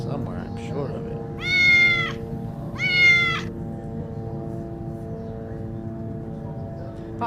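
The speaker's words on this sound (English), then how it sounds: "I have some cat noises in here somewhere" Two recorded cat meows, each about a second long, play back clearly over a steady background hum and low room noise, with a short pause between them.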